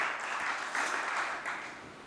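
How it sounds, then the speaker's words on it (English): Brief, dense audience applause at a summer church concert honoring the band's sound engineer and bassist, a continuous wash of clapping that swells slightly and then fades. "You can applaud."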